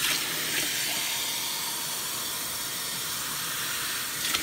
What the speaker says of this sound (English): Then we're going to fill this up with some water.